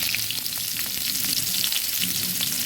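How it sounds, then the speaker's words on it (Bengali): Chopped onion frying in oil in a kadai for a Bengali baby banana curry, a steady, close crackling sizzle with faint stirring taps throughout and no voices. "ভালোভাবে পেঁয়াজটাকে ভেজে নেব"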